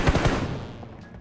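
Rapid bursts of gunfire in a BGMI team deathmatch, several loud close shots packed into the first moment and then trailing off into a fading echo.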